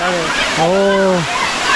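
Talakona waterfall tumbles down in steps, making a steady broadband rush, while a person speaks clearly over the roar.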